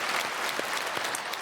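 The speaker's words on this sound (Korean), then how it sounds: "박수로 축복하겠습니다" Brief, dense clapping from a church congregation during a Korean Sunday worship service, with many hands applauding evenly in a large hall and no speech over it.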